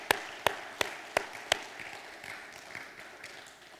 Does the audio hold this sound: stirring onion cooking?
no